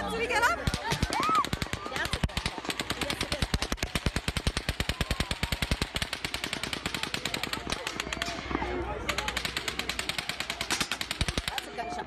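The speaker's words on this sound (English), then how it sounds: "That's a gunshot, dog." Repeated bursts of rapid automatic gunfire from the Las Vegas shooting rattle on for several seconds, loud and echoing, with short gaps between volleys while people shout and talk over them.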